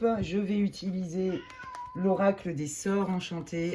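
A domestic cat meows repeatedly in short, close, loud calls, overlapping someone speaking French indoors.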